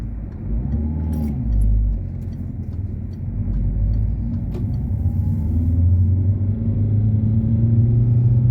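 A car engine rumbles steadily from inside the cabin while driving along a road through a right-hand bend followed by a left-hand bend, a low continuous drone with slight swells, no talking.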